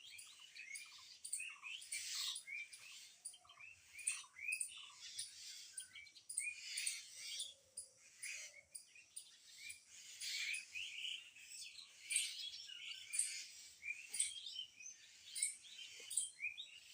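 Small birds in a mango tree chirp and call excitedly in quick repeated bursts, alarmed by cats climbing the tree, faint and somewhat distant over quiet outdoor background.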